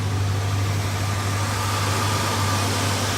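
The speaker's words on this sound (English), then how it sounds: "it looks like the engine's starting to smooth out a little bit" A 1966 Cadillac DeVille engine idles with a steady low rumble and even hum, close and continuous throughout, with no talk.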